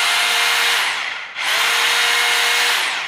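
A Stanley 18V cordless three-mode rotary hammer drill, model SBR20M2K, running with a loud, steady high whine that dips briefly as the trigger is eased and then spins back up, heard up close with no talking.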